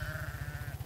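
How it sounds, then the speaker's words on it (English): A trailing band of about 1,200 sheep with lambs bleating, one drawn-out bleat standing out over a rhythmic low engine-like rumble nearby. "We got a few lambs coming."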